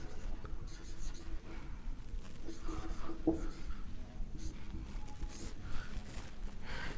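Pen or pencil scratching words by hand on paper in a Hindi-to-English writing lesson, a steady soft scraping with small strokes and pauses, close up and without talk.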